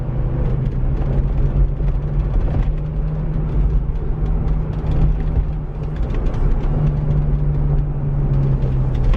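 A steady low droning hum from inside a moving car with 533,500 miles, with a constant whirring tone from a worn wheel bearing under road noise.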